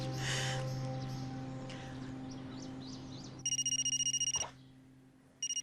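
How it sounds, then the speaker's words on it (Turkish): A phone in an indoor drama scene rings in a rapid burst of electronic trills, stops, then starts ringing again, over a low steady background hum. "Kız belli ki merak etmiş ısrarla arıyor baksana"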